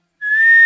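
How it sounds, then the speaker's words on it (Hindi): A single sustained whistle, one steady clear tone held for about half a second, loud and alone with no talk. "किसने बजाई सीटी?"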